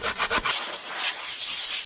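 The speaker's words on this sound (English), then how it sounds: "So now I just have a little piece of 80 grit sandpaper. I'm just gonna go in here and make sure this is smooth." 80-grit sandpaper rasps against a part with a few quick strokes, then a steady hissing scrub continues without pause, smoothing the part during a dual fan cooling mod on a Thrustmaster T300 racing wheel.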